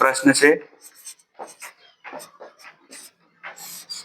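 Pen or chalk writing out a rectangle perimeter solution in a maths lesson, giving short scratchy strokes in bursts, with someone speaking Hindi at the start and faint speech between strokes.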